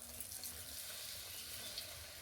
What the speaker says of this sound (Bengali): একইভাবে সবগুলো ভেজে নেব।